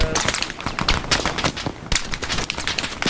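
Heavy gunfire in the World War II shooter Hell Let Loose, crackling machine-gun bursts and rapid individual shots packed tightly together, loud and continuous with no speech.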